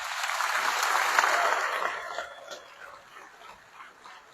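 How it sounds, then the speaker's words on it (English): A crowd claps in a burst of applause at a casino opening day event, swelling loud then thinning to scattered claps as it fades. "give them a nice round of applause"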